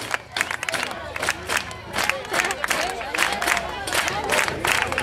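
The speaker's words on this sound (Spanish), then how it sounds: "A ver las palmas. A ver si van siguiendo." A carnival crowd at a murga show by Centro Murga Los Colifates claps along in rhythm, loud, steady beats mixed with cheering and shouting voices, a festive outdoor din throughout.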